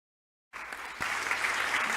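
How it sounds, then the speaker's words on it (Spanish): An audience at a commission conference breaks into applause after a silent half second, dense many-handed clapping that holds steady and fills the hall for the rest of the moment. "Que sea bien fuerte el aplauso"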